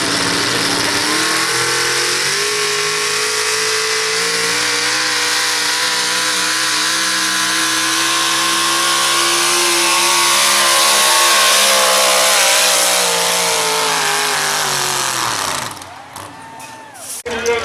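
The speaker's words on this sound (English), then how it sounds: "The Super Stock 4-wheel drive truck." A Super Stock four-wheel-drive Chevy pulling truck roars loud and sustained at a county fair tractor pull, its engine droning steadily with rising pitch before cutting off abruptly near the end.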